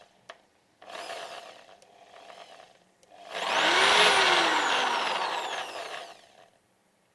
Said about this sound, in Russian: это сам ход дрели, потому что есть какой-то посторонний звук при ее включении